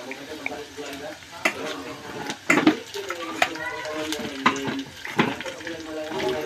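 Soy sauce is poured into hot cooking oil, producing a close crackling sizzle broken by sharp spattering pops and clinks of stirring, with people talking over it.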